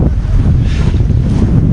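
Strong wind on a volcano slope in Nicaragua buffets the microphone with low rumbling gusts, steady and loud throughout, with a faint watery rush underneath.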